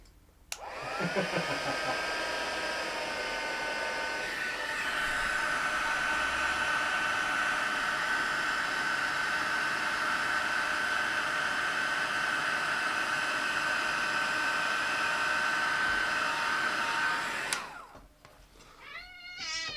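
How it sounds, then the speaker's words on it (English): A crafting heat tool runs while heat setting a handmade butterfly card, a loud, steady electric whir with a high whine lasting about sixteen seconds before cutting off abruptly. "So it's just going to get a little bit noisy as I bring in our heat tool"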